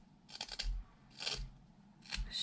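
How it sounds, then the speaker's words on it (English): A knife shaves thin curls off a wooden heart during whittling, making three close, dry scraping strokes spaced about a second apart, each a short crisp rasp with no talk. "Shaving a little bit at a time"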